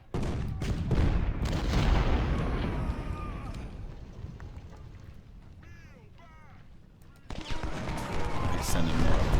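Bursts of rapid, crackling rifle fire from Spencer repeating rifles in the Civil War battle game Ultimate General: Civil War, with dense volleys that thin out midway, then surge back loudly.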